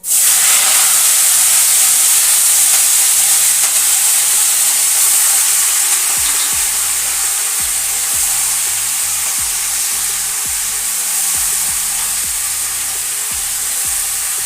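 Spinach dropped into hot oil in a wok gives a loud, continuous close-up sizzle and hiss that holds steady for the whole stretch, with faint knocks of the pan underneath.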